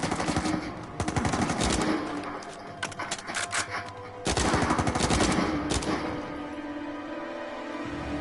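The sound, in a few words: gunfire in the video game Uncharted 4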